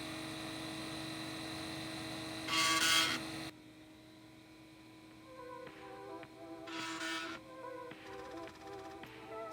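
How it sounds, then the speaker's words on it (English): A failing cooling fan in an old Dell Optiplex computer drones with a tonal hum and whine, rising briefly into a harsh buzzing rattle, then dropping quieter before more intermittent rough buzzing bursts. "As you can hear, the fan is not doing so well, but that's a typical Optiplex thing."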